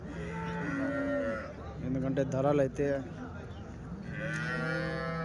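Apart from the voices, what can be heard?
cows mooing at a cattle market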